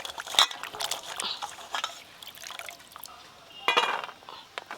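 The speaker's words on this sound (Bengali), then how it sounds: "আর একবার জল দিয়ে ভালো করে ধুয়ে নেব" Water splashing and trickling as cleaned figs are rinsed in a bowl in a home kitchen, with intermittent close splashes and pours of varying loudness and no talk.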